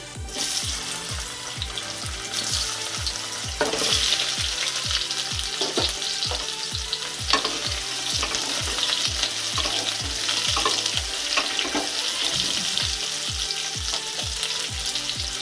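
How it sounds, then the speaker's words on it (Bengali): Potatoes and bay leaf with whole garam masala sizzling in hot oil for a vegetarian aloo dum, a steady loud fry broken by repeated scraping stirs, with no talk. "আর তেজপাতা আলুগুলো দিয়ে দিচ্ছি"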